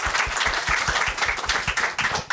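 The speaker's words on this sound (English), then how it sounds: "Another applause." Audience applause after a talk at a tech conference on startup success stories, steady dense clapping filling the room for a couple of seconds with no voices over it.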